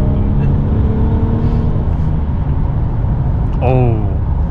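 Mercedes E350 4MATIC AMG Line with an inline four-cylinder of about 299 horsepower, accelerating on a test drive, a steady cabin engine drone with a brief rising whine near the end, heard under ongoing talk.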